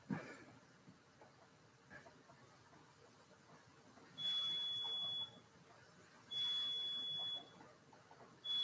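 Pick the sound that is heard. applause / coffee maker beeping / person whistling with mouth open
coffee maker beeping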